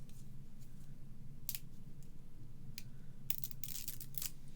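Quiet crisp tearing and crinkling as a paper card frame is peeled away, a few short bursts over a low background hum, no talking.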